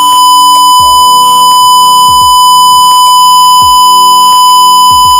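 A microcontroller buzzer sounds as a high-temperature alarm above 30 degrees Celsius, repeating short loud electronic beeps in a regular pattern over a constant high-pitched tone and steady electrical hum.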